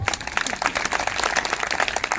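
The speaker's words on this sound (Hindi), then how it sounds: "अपने लिए तालियां बजाओ" A church congregation at a Sunday meeting claps for themselves, with loose, uneven handclaps from many people in quick bursts that rise and fall across a short stretch.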